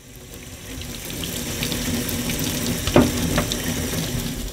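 Running hot water rinses a roller skate boot, a steady broadband wash of flowing and splashing water with a brief louder splash near the middle, no voices.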